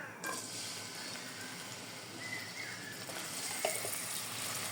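Onions sizzling in hot oil in a home kitchen, a soft steady crackle with a sharp hiss as they hit the pan and a few faint clinks, no talk.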